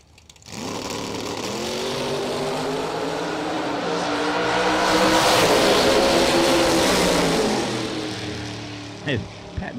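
Bracket racing cars at a drag strip run a loud, sustained engine roar that swells and holds for most of the stretch, then eases off into a brief pat of throttle near the end, with an announcer's voice talking over it.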